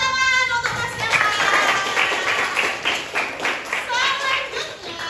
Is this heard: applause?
yes